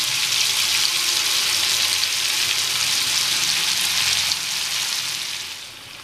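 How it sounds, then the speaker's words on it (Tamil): Mushrooms frying in a pan make a dense, even sizzle up close, holding steady and then fading slightly toward the end, with no talking. "இதெல்லாம் நல்லா ஃப்ரை ஆகட்டும்."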